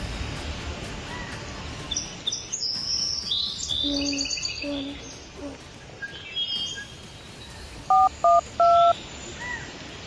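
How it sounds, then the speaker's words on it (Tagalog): Mobile phone keypad tones beep in a quick run of three distinct presses while 911 is dialed, sharp and close over an outdoor night backdrop of crickets and chirping birds. "Ipipress ba yung green button para matawagan yung 911?"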